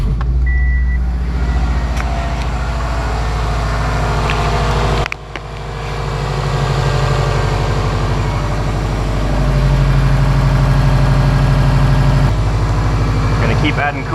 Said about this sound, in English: So we can actually start the car up and let it bubble and fizzle